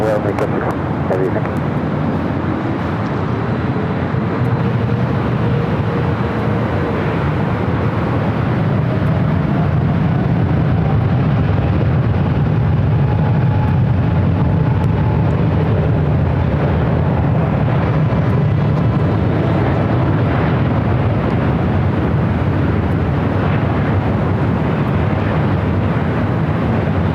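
An Aeromexico Boeing Dreamliner takes off at LAX, a loud, steady jet roar that swells and holds with broadband rumble, heard from a distance around the airfield.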